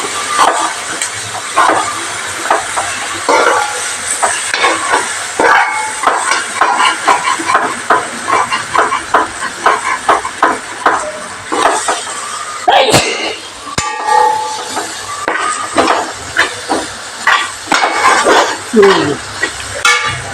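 Chicken sautés in fried coconut oil for a coconut milk chicken curry, with a constant sizzle broken by repeated stirring scrapes and occasional clinks of a utensil against the pan, close and loud throughout.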